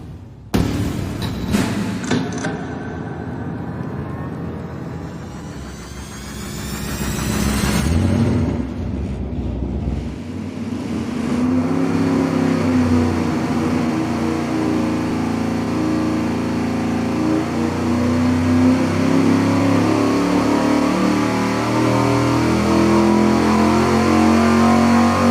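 A dyno-mounted engine with aluminum cylinder heads roars steadily and loudly, revving up after a sharp startup burst with a brief dip in the middle, running close and alone.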